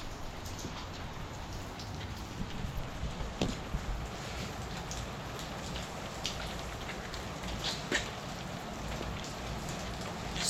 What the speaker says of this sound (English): a little rainy day